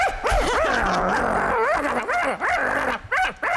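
A person imitates a Pekingese dog with rapid, high, yappy barks and whiny yips, loud and close, several bursts packed tightly together.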